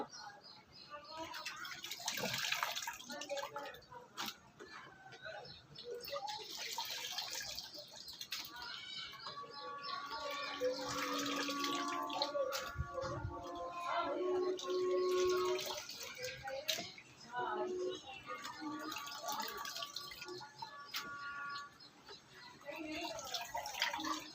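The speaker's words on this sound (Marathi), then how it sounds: "ते चांगल्या पाण्याने धुवावं लागतं. 2-3 पाण्याने धुतले ना मग स्वच्छ येतात ते" Water sloshes and splashes as banana slices are rinsed in a bowl, with a voice talking over the washing.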